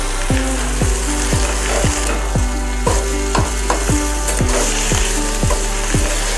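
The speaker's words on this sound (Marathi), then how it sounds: "टमाटाही आपल्याला मऊ होईपर्यंत फक्त परतून घ्यायचं आहे।" Tomatoes and coriander sautéing in a pan for chana masala, a loud steady sizzle broken by regular rhythmic scrapes of a spatula stirring against the pan.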